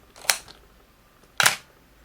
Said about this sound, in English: camera is just start stepping down through the shutter speed